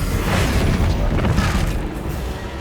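A Bombarda explosion spell in Hogwarts Legacy sounds as a loud, sustained booming rumble with crashing debris, steady across the short moment and free of speech.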